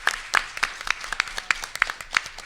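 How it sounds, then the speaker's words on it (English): Sparse, uneven clapping from a small audience at a public forum on health care spending, with individual claps standing out as distinct sharp hits rather than a dense wash. "So let's give all of the consultants, including Jessica, a round of applause."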